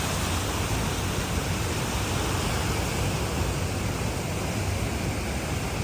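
Steady, dense roar of rushing water at Costley Mill Park Falls, running high, loud and unbroken throughout, with no voices.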